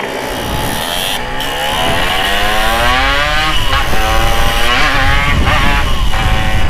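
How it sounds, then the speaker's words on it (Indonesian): A motorcycle engine runs steadily and loudly up close, its pitch climbing and wavering as it revs, with no voices over it. "Gila sih ini motor."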